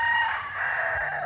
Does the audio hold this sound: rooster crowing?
yes